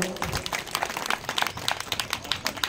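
Audience applause at a Marathi poetry festival in Pishor, a dense burst of many hands clapping with crisp individual claps, fairly loud and steady throughout without speech.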